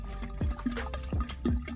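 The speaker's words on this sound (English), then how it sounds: "Put water in jar." Pond water being poured into a jar, a few quick gurgling splashes in short bursts, close and moderately loud.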